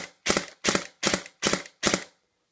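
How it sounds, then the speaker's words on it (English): An airsoft M4 rifle on semi-automatic fires five sharp, evenly spaced shots in quick succession, loud and close, then falls silent. "as you can see, it's shooting burst on semi-automatic"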